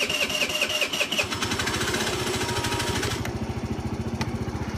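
A 50cc retro moped engine is started: a few rough cranking bursts, then the small motor catches into a fast, even putter that settles into a steady idle close by.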